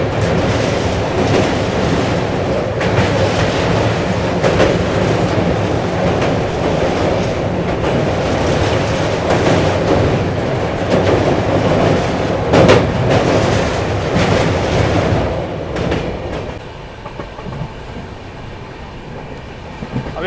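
Humsafar Express passenger train hauled by a diesel locomotive running along a curve past a station, a loud steady rumble of wheels on rails with rhythmic clatter, fading slightly near the end.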